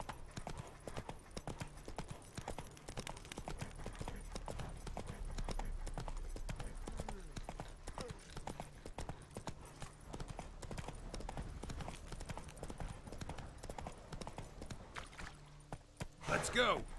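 Roach, Geralt's horse in The Witcher 3, trots with a steady, close clip-clop of hooves throughout, over soft game music with a voice speaking at times and a brief louder burst near the end.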